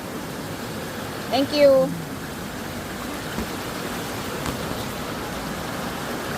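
A strong waterfall stream rushes in a steady broad roar that fills the whole scene, with one brief voice heard over it.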